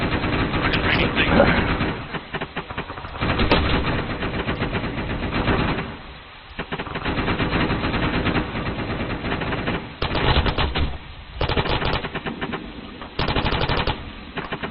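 Bursts of machine-gun fire aimed at a target 900 meters away in a military video game, loud rapid volleys separated by brief pauses, with faint radio-style voices underneath.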